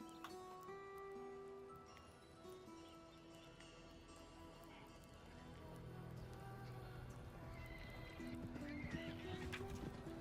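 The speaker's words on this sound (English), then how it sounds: "Sounds like a lot of horses." Horses in the Red Dead Redemption video game during roleplay, several animals heard with clip-clopping hooves and an occasional whinny, mixed with game ambience and faint talk in the background.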